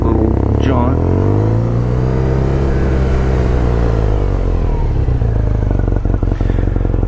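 BMW R nineT Urban GS motorcycle engine rumbles close and loud as it rides around a parking lot, pitch rising and falling with throttle changes, with a voice talking over it.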